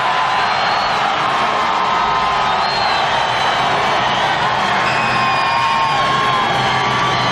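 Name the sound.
race crowd cheering for Jeff Gordon at the Brickyard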